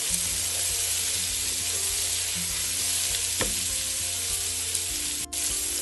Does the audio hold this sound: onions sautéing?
yes